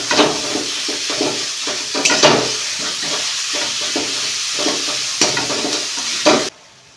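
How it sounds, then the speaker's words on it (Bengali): Minced meat with spices sizzles and hisses in a hot pan while a spatula stirs it in repeated scraping strokes and clinks, close and loud, ending abruptly. "এবার মাংসের কিমাটা দিয়ে দিতে হবে।"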